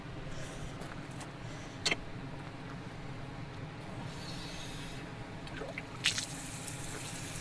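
A leaking tap runs water in a steady, even hiss at moderate distance. Two brief sharp clanks stand out partway through.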